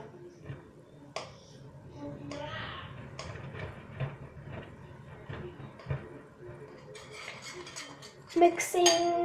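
Homemade slime being stirred in a bowl, with irregular clinks, scrapes and taps of a utensil against the bowl, close and fairly quiet, ending in a few sharper clatters.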